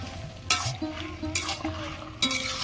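Taro stems stirred in a frying pan for a vegetarian curry, three sharp scraping strokes about a second apart over a soft sizzle, close and clear with no talk.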